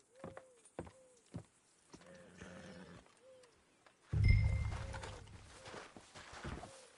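Horse hooves clop in a loose, uneven rhythm in the video game Red Dead Redemption 2, then a louder rumbling burst swells in partway through as the hoofbeats carry on.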